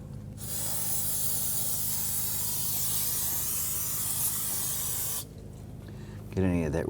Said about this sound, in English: We are going to give this a spray down with some solvent.